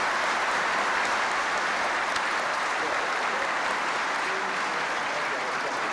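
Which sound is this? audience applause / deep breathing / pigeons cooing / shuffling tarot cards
audience applause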